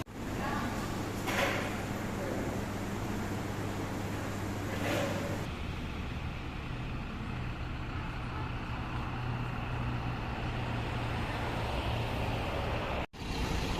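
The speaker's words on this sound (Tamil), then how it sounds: "Volvo பஸ்ஸோட rare engine சவுண்டுங்க" A Volvo 9600 SLX coach's rear engine runs steadily on a Bangalore to Chennai trip, giving a constant low drone with road noise, brief louder swells, and an abrupt break near the end.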